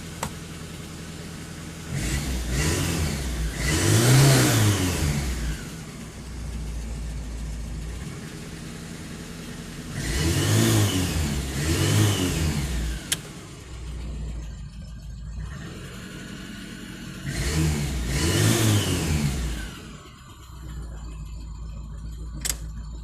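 VAZ 2109 car engine running after a diode bridge replacement, idling steadily and revved three times in rising and falling swells, heard close with no talking.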